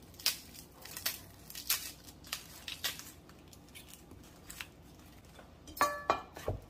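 An onion being peeled by hand in a home kitchen while making a kale and cabbage salad, a close series of dry crackles and brittle tearing snaps from the papery skin, irregular and quiet with brief pauses, no speech.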